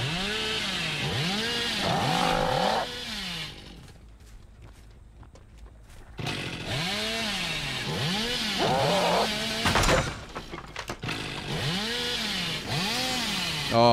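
Game audio from Dead by Daylight, with the Hillbilly's chainsaw revving in loud repeated surges and a quieter gap in the middle, alongside footsteps and other game sounds.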